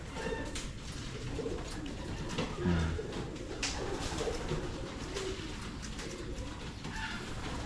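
Pigeons coo softly inside a pigeon loft, several low throaty calls rising now and then over a steady background hum, with faint speech in the distance.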